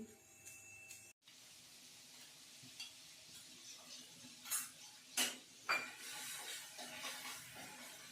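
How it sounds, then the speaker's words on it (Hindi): Boiled chickpeas are tempered with spices in a home kitchen pan, giving a quiet sizzle with scattered stirring scrapes and a few sharper clinks of utensil against the pan. "यहाँ बना रही हूँ मैं चने छोंक रही हूँ"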